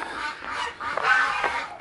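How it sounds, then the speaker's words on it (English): Geese honking repeatedly at a farm pen at night, several harsh calls overlapping in a steady run, fairly close and loud with no talk. "Oh, quacking away."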